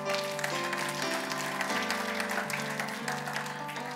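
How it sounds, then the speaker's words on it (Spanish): Church congregation clapping loudly for the Lord during a Spanish-language service, a steady crackle of many hands over sustained organ or keyboard chords that shift pitch. "Denle ese aplauso fuerte al Señor."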